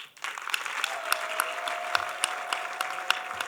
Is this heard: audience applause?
yes